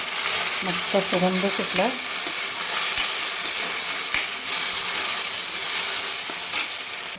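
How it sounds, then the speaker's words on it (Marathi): Green chili, coriander and a ginger-garlic paste sauté in hot oil, giving a steady close sizzle with stirring scrapes; a voice speaks briefly over the opening seconds. "याला पण आपल्याला 2 मिनिट छान परतून घ्यायचं आहे तेलावर"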